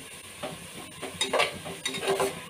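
Sliced onions frying and browning in a pan for chicken dum biryani, with steady sizzling and several scraping stirs that rise and fall close by.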